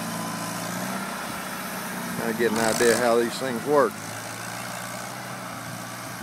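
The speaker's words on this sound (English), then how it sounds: "We've got a 52 Farmall Cub. A set of double turn plows behind it." A 1952 Farmall Cub tractor pulling a set of double turn plows, its old, slightly smoking engine giving a steady low idle-like drone throughout, with someone talking briefly over it midway.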